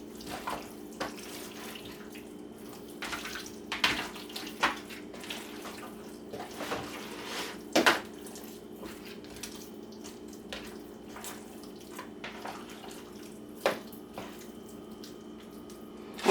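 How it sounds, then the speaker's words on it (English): A kitchen faucet runs steadily while hands are washed beneath it, with a continuous water hiss and scattered splashes and knocks from a nearby sink, heard alone without speech. "let me wash my hands"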